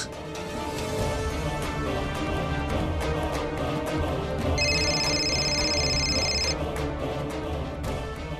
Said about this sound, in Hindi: हम फोन मिलाते हैं।